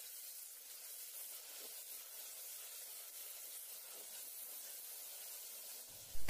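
Chopped tomatoes with fennel and curry leaves sautéing in a pan for a mutton curry give a soft, steady sizzling hiss that stays even throughout, with a brief louder knock at the very end and no talking.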